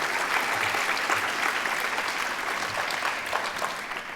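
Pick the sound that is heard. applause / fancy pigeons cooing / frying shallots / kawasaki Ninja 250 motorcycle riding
applause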